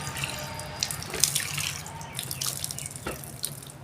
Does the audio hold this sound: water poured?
yes